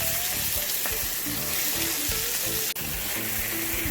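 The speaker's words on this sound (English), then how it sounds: "Now we add the stuffed calamari to this." Stuffed calamari hits hot, dark Goan masala with a steady, loud sizzle and frying crackle that carries on continuously, with a brief break near the end.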